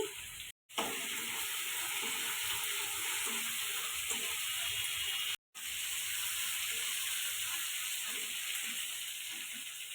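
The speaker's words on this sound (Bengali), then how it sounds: "চিংড়ি মাছটা ভেজে নিচ্ছি" A steady hiss of prawns frying in hot oil, continuous and close, briefly cutting out twice.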